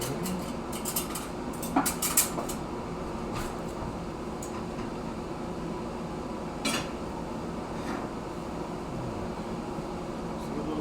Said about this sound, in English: So let me just get a little bit of rice into a bowl.